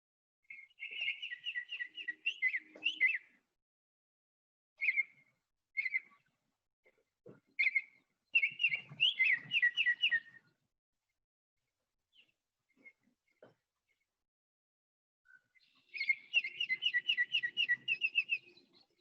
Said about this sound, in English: And here's the sound of an oriole.